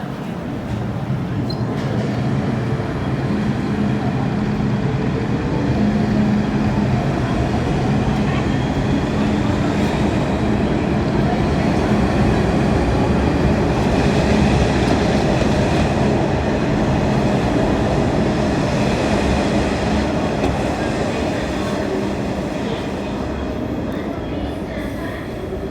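A metro train runs continuously at Yau Tong Station, its steady rumble and rail noise filling the platform for the whole stretch, with faint voices and announcements mixed in.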